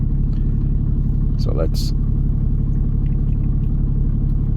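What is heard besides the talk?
2015 Ram 2500 truck engine running before shutoff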